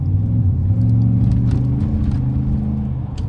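A 2014 Chevrolet Silverado regular cab short bed pickup on big tires pulls away under hard throttle, its engine a loud, steady low rumble that holds close and strong throughout with no talk over it.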